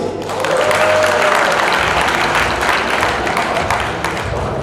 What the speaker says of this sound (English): please give me a round of applause for all our attendees